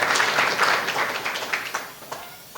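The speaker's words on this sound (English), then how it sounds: "Give her a round of applause." Audience applause at a Medal of Honor gathering, a full burst of clapping from many hands near the start that gradually thins and dies away into a few scattered claps within a few seconds.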